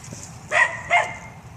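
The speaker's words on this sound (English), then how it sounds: "shut the hell up, dog." A dog barks twice in quick succession out in a superhot pepper garden, two sharp mid-distance barks over faint outdoor background noise.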